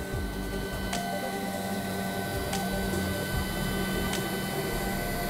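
Laguna IQ Pro CNC router with automatic tool changer moving to the start of a program, a steady loud mechanical hum and whine of motors with a few sharp clicks spaced about every second and a half, no talk.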